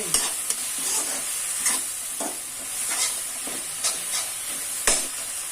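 Jolokia chili fries in hot oil in a covered pan with a constant close sizzle and hiss, broken by occasional sharp pops and light stirring clinks, with no voices.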